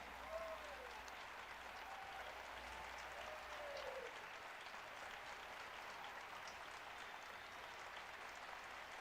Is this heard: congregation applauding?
yes